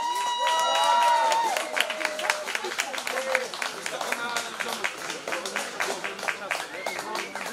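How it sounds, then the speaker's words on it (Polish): Crowd applause at a Polish entertainment event, dense rapid clapping under a sung or voiced tone at first, continuing steadily at moderate distance with voices mixed in. "wielkie brawa!"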